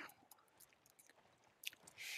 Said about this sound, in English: Stop chewing on my boat, you damn thing.